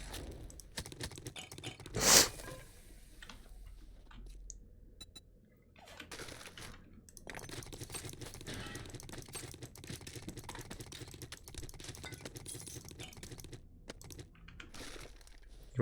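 Fingers clatter on a computer keyboard in quick, uneven bursts of clicks, with one sharper, louder clack early on, a brief lull midway, then typing resumes at a steady, close-up pace.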